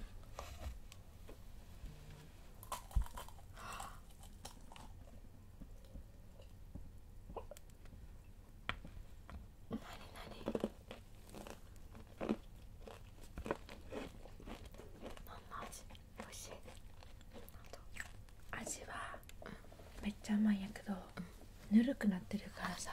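Crunchy sugar-coated candied strawberries are bitten and chewed close to the mic in quiet ASMR fashion, with sparse crisp cracks and crunches between soft whispering from two women.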